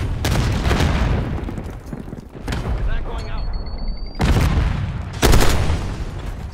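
A frag grenade blast and gunfire in Call of Duty: Black Ops 6 multiplayer, with several loud broadband bursts and thuds over constant battle noise and voice callouts.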